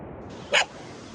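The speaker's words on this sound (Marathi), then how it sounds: "हे कुत्रं त्यांच्यावर भुकवतं पण आमच्यावर नाही भुकलं" A single short dog bark rings out once over a steady background hiss, then the hiss carries on alone.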